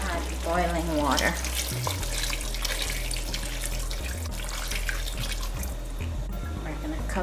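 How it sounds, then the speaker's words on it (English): Boiling water pours steadily into a pot of cooking chicken with cassareep, a rushing, gurgling splash under a low background hum and a few faint clinks. "And I'll add boiling water."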